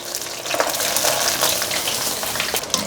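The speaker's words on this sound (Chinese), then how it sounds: "第二遍就可以全部一起放进来炸，让它炸第二遍，给它彻底的散开" King oyster mushroom pieces deep frying together in hot oil on a second fry, a steady close crackling sizzle with bubbling that holds throughout.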